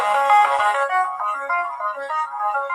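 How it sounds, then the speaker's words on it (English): An AI-generated song made with Suno AI plays on its own as a bright, steady melodic line of sustained tones, fairly loud and close, with no voices over it. "here's some songs that have been created by other people. And let's listen to some of them."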